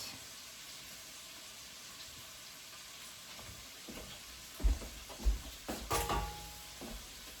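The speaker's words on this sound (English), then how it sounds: "we're gonna toast that up now. Toast up the garlic with these." Garlic toasting in a hot pan gives a low, steady sizzle, with a few louder spatters and stirring clatters near the end.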